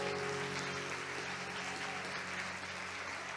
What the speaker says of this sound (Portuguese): vamos aplaudir ao Senhor por essa vida